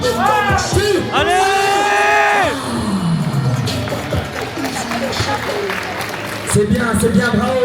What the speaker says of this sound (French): On peut applaudir bien fort Raoul